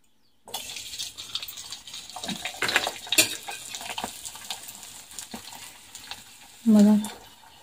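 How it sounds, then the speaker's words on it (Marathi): Chakli dough pressed into hot oil in a kadhai fries with a continuous bubbling sizzle that starts abruptly and rises and falls through the clip, ending with a brief tonal sound near the close. "तर आपण चकली तळून बघू आता।"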